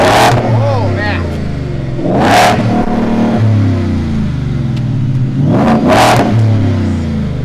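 Ford Raptor with a 5.0 Coyote V8 revving loudly, its deep engine note rising and falling in repeated surges, with people talking over it.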